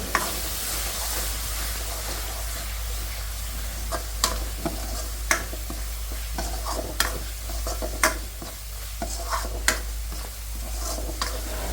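Masala spices are stirred and sautéed in oil in a pan with a continuous loud sizzle, and a spoon scrapes and clinks against the metal at irregular intervals throughout.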